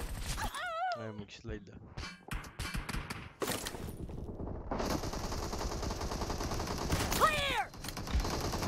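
Gunfire in PUBG Mobile's Hangar gun game mode, a rapid burst of shots mixed with clanging and pickup effects, while players talk and call out excitedly over the action.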